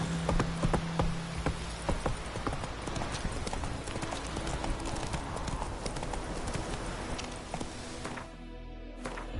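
Horse hooves clip-clop steadily in a video game, a close, continuous run of quick hoofbeats lasting about nine seconds before fading out near the end.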